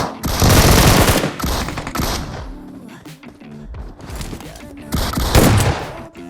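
Automatic gunfire in the mobile battle royale game BGMI (PUBG Mobile), loud sustained bursts with brief pauses, ending in another heavy burst.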